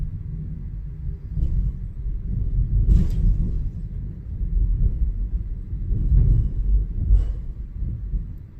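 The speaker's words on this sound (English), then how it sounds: "That's pretty loud thunder." Thunder rolls as a low, continuous rumble that swells and fades over several seconds, loud and deep, with a few sharper cracks standing out.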